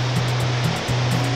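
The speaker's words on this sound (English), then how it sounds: "There's a waterfall over here, and this is so beautiful." A steady, full-bodied rush of falling water at a waterfall in Sajikot, Abbottabad, fills the air continuously, with a faint intermittent low hum beneath it.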